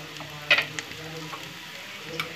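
Potatoes fry and sizzle in a pan with turmeric and spice masala for aloo sabzi, a steady close crackle with a couple of brief scraping stirs.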